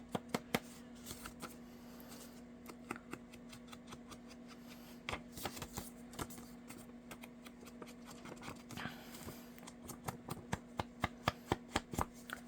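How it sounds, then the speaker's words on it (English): Ink is dabbed onto a paper envelope with a sponge, making a run of quick, quiet tapping clicks that come in uneven bursts over a steady low hum, with no talking. "I'm going to also sponge my envelope because I can"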